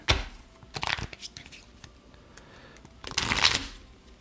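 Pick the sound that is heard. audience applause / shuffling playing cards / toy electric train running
shuffling playing cards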